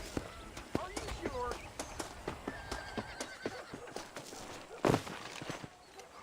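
A horse in the video game Red Dead Redemption whinnies and its hooves clip-clop in an irregular rhythm, all fairly quiet, with a louder burst near the end and voices faintly underneath.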